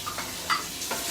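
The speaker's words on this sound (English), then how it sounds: "and it sizzles a bit." Chopped capsicum sizzles faintly in a hot pan, a soft steady hiss with a few light ticks and stirring clicks, heard close up in a home kitchen.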